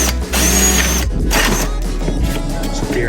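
A drill bores out the plastic mount of a Gen 1 windshield washer reservoir, a loud, steady mechanical whir with brief dips and restarts, running close throughout.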